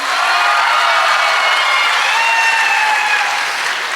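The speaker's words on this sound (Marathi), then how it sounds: "एकदा टाळ्या होत्या" Loud, sustained applause from a large group of students at a school function, dense clapping with scattered cheers and whistles running evenly for several seconds.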